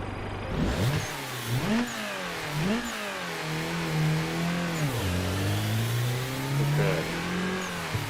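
Car engine in a racing video game revving through repeated rises and falls in pitch, then holding a steady drone; close, loud and continuous with no talking.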